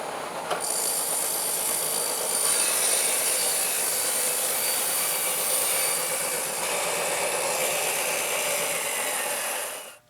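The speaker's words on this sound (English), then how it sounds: "raise the blade, and make the cut." A table saw blade rips through wood on a crosscut sled, a loud steady high-pitched whine held for about ten seconds before spinning down at the end.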